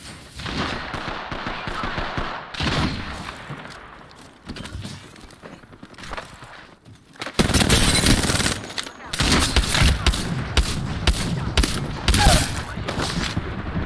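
Dense bursts of automatic gunfire from the video game Apex Legends, sparse at first and then a sustained loud barrage in the second half, with brief game voice lines mixed in.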